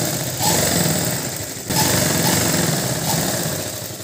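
A sewing machine stitches a blouse sleeve in a steady, continuous motorized whir with brief pauses and restarts, close and fairly loud.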